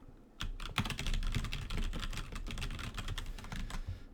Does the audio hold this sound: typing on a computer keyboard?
yes